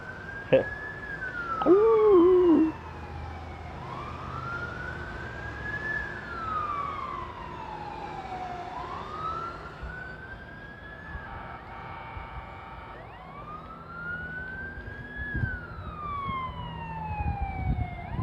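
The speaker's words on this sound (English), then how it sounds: "think it's an ambulance." An ambulance siren wails in rising and falling sweeps, moving past at moderate distance over faint traffic noise, with a brief dog-like howl near the start.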